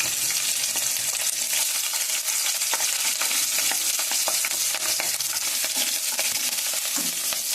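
Urad dal, chana dal, mustard seeds and cumin tempering in hot oil for a spinach and chana dal curry, a steady loud sizzle with crackling pops and occasional stirring scrapes throughout, no talk.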